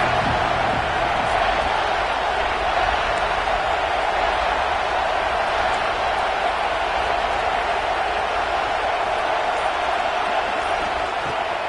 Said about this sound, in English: This crowd knows they have to bring it in big moments, and one of those has arrived.